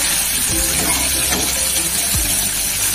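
Rohu fish frying in hot oil for a kalia with ridge gourd and potato, a steady close sizzle with faint stirring clicks, no talking.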